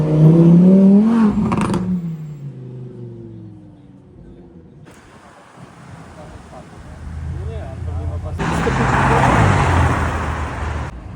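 A Mercedes S65 V12 passes by with an engine whir that swells, fades and swells again, mixed with road and traffic noise, while someone talks loudly at the start.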